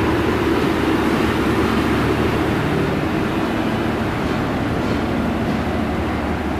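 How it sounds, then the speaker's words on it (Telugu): A crowded passenger train running at speed on the Vijayawada–Gudur–Renigunta line behind a WAP7 electric locomotive, heard as a steady, loud, broadband roar and rumble from inside the coach with no distinct breaks. "ఎంత రష్ రా బాబు ట్రైన్."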